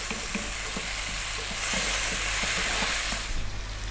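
Tomatoes cook down in a pan for a lamb curry, giving a steady, loud sizzle and frying hiss that swells slightly midway, with faint soft stirring taps beneath and no talking.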